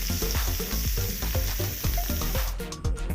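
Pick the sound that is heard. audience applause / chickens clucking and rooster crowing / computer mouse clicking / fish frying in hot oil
fish frying in hot oil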